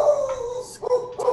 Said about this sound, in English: Sorry, my dog's a nutball.